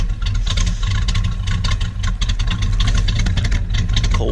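Cammed 350 V8 idling on a cold start, a loud, lumpy, choppy rumble with an uneven loping rhythm, heard close up and alone with no talk.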